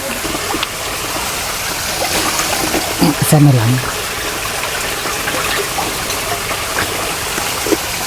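Running water trickles steadily as wild food is rinsed by hand, with a person talking briefly over the flow.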